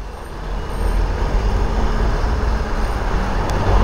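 Heavy vehicles at a Birmingham city bus stop on Corporation Street, including brand-new buses, make a steady close low rumble of idling diesel engines with faint hiss and clatter throughout.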